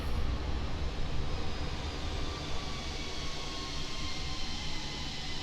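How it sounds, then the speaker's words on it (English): Jet engines on a Fenix airliner in the flight simulator game MSFS2020 spool down, a loud steady roar and whine that holds at a constant level, heard alone. "Those engines will spool down."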